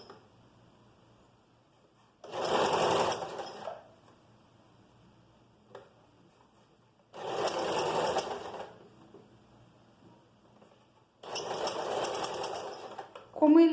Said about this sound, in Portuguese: Dobro um pouquinho, vinco e costuro.